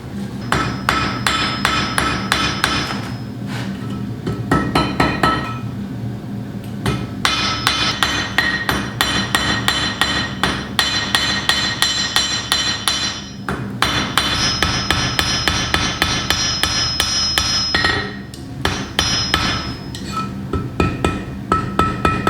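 A metal ring for a Yggdrasil pendant is being forged and rounded, and a hammer strikes it in rapid, ringing metallic blows. The blows come in steady bursts with brief pauses, loud and close.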